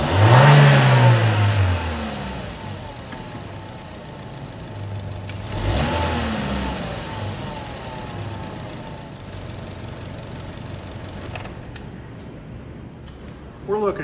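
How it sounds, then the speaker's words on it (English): A car engine revs sharply with a rising whine, settles into a rumbling idle, then revs again more briefly, close and moderately loud. "I was putting it in neutral and revving it up a little bit"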